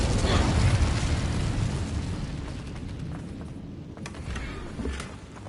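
Incendio fire spell cast in Hogwarts Legacy, a heavy burst of roaring flame that swells loud at once then slowly dies down into a crackling rumble, with a few small pops near the end.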